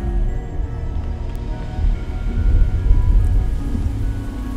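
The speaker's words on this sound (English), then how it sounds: "I'm gonna make it rain." Rain and rumbling thunder cast as a spell in the video game Xing, a steady low roar of rainfall with a deeper thunder swell building midway, playing alone without talk.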